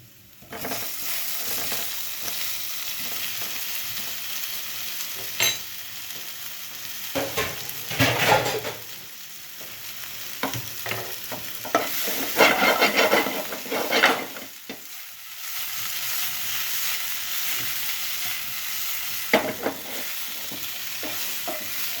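Roasted pumpkin tossed and stirred in a hot pan, sizzling and frying steadily with repeated scraping stir strokes, close and moderately loud with no talking.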